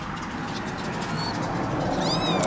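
Kittens meow in a bucket, thin high-pitched mews coming faint at first, then a clearer rising cry near the end, over a steady background noise with no talk.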